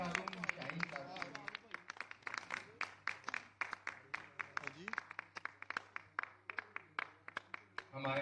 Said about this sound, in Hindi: बहुत सारी तालियां दी शाहरूम शाहीन साहब